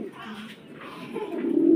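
Pigeons, a pair of dragon red indigo birds at a pigeon farm, coo in low repeated throbbing calls that grow louder toward the end.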